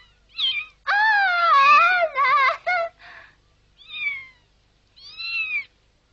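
A small kitten meows repeatedly, several high, clear cries of varying length, close to the mic, with a longer run of cries early on and short ones after pauses, with no talk.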